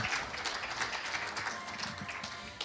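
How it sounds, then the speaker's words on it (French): Faint, distant crowd applause at a live Super Mario Odyssey speedrun charity event, a soft wash of clapping with no clear individual claps. "On peut les applaudir"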